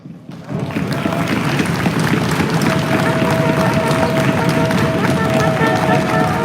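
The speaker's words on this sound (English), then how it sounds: "give a round of applause to yourself" A large outdoor crowd applauding and cheering at a live event, a dense continuous roar of claps and voices that swells in after a quiet start and holds steady, with a faint sustained tone running through it.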